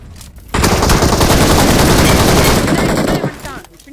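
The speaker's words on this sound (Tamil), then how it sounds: "நான் தான் ப்ரோ சுட்டேன்" Dense automatic gunfire from a video game blasts loud and continuous for about three seconds, then cuts off abruptly, with brief game sounds before and after.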